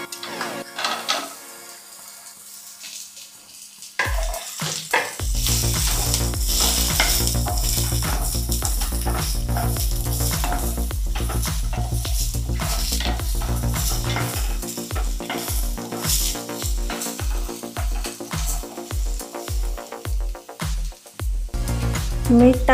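Cumin seeds and raw mango pieces fry in a pan for mango pickle, a loud steady sizzle running nearly throughout, with scraping stirs and a rhythmic series of clanks near the end.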